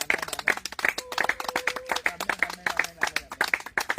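Church congregation at a baptism service clapping together in a steady, rhythmic beat, dense and lively, with a faint sustained voice underneath.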